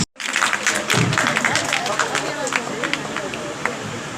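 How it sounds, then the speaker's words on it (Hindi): Loud crowd applause fills a welcoming segment of a talent felicitation ceremony in Hanumangarh, Rajasthan, dense and sustained after a brief silence at the start, with babble and voices mixed in. "सभी जोरदार तालियों से स्वागत करेंगे।"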